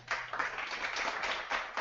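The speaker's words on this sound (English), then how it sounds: "Applause." Applause sound effect: a crowd of hands clapping in a dense, continuous patter, moderately quiet and steady for under two seconds with no voices.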